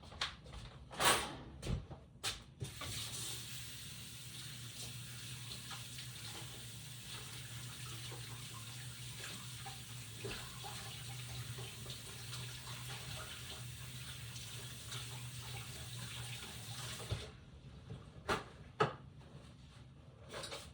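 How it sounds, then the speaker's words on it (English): A tap runs steadily for a long stretch while a hand is washed under it, a close, even rush of water framed by a few knocks and clatters at the start and end. "let me just wash this hand"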